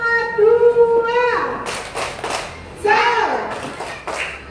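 Schoolchildren in an elementary classroom break into a round of applause for a group, with two bursts of clapping following a sustained sung or called-out voice.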